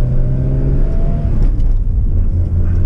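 A Mazda RX7 rotary engine pulls steadily while cruising up through the gears, a loud, close, continuous droning rumble from inside the car with rising engine tone and no talk.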